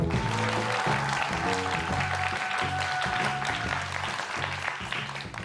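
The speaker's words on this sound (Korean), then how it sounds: "오늘 이렇게 또 큰 박수를 쳐주셔서 오늘 좀 강연이 잘 될 것 같습니다" Lecture audience applauding at a youth startup talk, a dense wash of clapping with music playing underneath, staying loud and fading slightly at the end.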